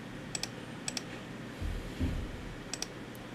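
Someone types on a computer keyboard in a home studio, a few quiet, sparse key clicks in small pairs with a soft thump midway, otherwise a hushed room.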